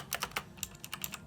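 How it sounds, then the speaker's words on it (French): Rapid keystrokes on a three-year-old Razer BlackWidow Chroma mechanical keyboard, about a dozen crisp clicky presses in an uneven burst, close up with no voices. "En clavier, j'ai un Razer Black Widow Chroma, il date de 3 ans d'ailleurs"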